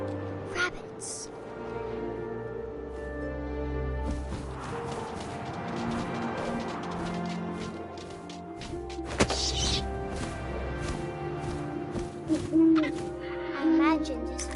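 An owl hoots in a story-driven video game sequence, low tonal calls sounding over wind and ambient game score, with a sharp thud midway and narration heard around it.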